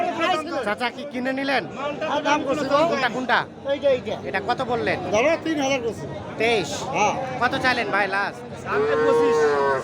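Small bulls and heifers mooing repeatedly at a busy cattle market in Bangladesh, loud and close, with crowd chatter and talking throughout underneath the calls.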